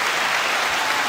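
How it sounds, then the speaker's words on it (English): A clapping sound effect played during a 3D printing live stream: a dense, steady burst of applause, loud and continuous for about a second, with no voices over it. "I need to start using this clapping."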